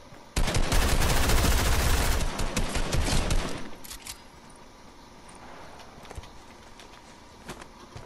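Rapid pistol gunfire from a bullet pistol in the video game Fortnite, a dense loud burst of shots for about three seconds, then scattered fainter shots and game ambience.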